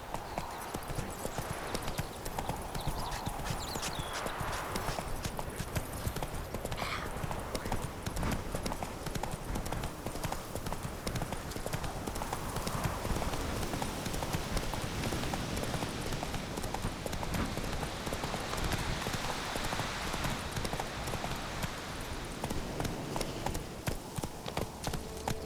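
Roach, the horse in The Witcher 3, gallops steadily, a continuous rapid clip-clop of hooves running loud and close with game ambience beneath and occasional faint speech.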